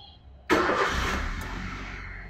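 A car engine is started with an aftermarket racing ignition switch: a sudden loud crank catches at once and settles into a steady, close running rumble.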